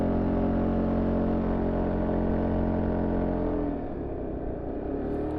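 Peugeot XP400 GT scooter engine droning steadily while riding through curves, a loud continuous hum with wind rush that eases slightly toward the end.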